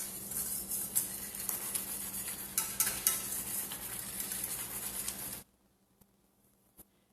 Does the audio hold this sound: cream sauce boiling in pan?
yes